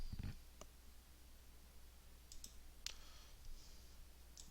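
A few scattered computer mouse clicks land sparsely while a website's upper menu is navigated, faint sharp ticks over a quiet low hum.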